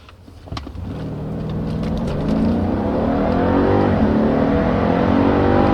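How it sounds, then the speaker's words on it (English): A 2013 Mercedes S63 AMG W221 with the Performance Pack revs up and pulls hard, its engine whine climbing steadily in pitch and loudness as the car gains speed. "So let's see how good this particular car can accelerate."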